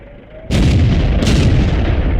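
Tank cannon fire in World of Tanks, a JagdPanzer tank destroyer firing in battle: a sudden loud boom lands after a quiet moment, then a second blast follows with a long rumbling tail.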